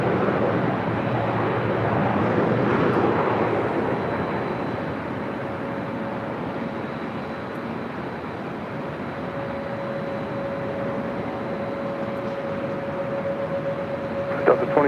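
An airliner on approach to a runway at Los Angeles International Airport, a broad steady jet roar that swells early then holds at a constant level, with a faint tonal whine running underneath.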